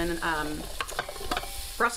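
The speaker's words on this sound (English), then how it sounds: "You always know your pan is ready when you hear that sizzle." Food sizzles steadily in a hot pan with a few utensil scrapes and clinks, while a tonal sound comes and goes over it.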